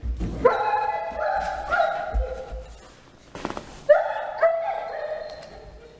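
A dog barks and yips several times, close and fairly loud, inside a town planning board meeting, with people's voices murmuring between the barks.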